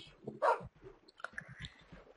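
A gray dog from Minecraft gives a couple of short, close barks with small clicks and shuffling in between, fairly quiet and with no one talking.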